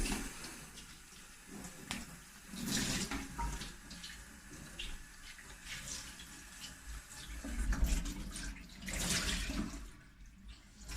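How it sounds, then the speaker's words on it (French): A tap runs into a kitchen sink while a cleaning cloth is rinsed under it. The water splashes and gurgles unevenly in soft bursts, fairly quiet and without voices. "Et ensuite, cette chiffonnette, vous pouvez la rincer."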